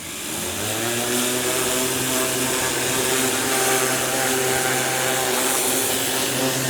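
A DeWalt 2600 PSI electric jobsite pressure washer runs steadily while spraying a tractor, giving a loud, continuous motor drone with a pump hum and hissing spray that holds unbroken throughout.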